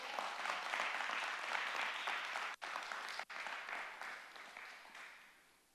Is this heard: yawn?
no